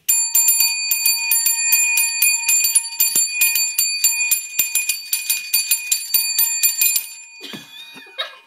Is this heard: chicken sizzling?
no